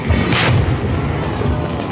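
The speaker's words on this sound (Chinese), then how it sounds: "突然砰的一声传出爆炸声响" A homemade bomb goes off beside the stage at a crowded temple fair in Chiayi, Taiwan. The blast is a single loud boom near the start, followed by a heavy, noisy rumble that stays loud without fading.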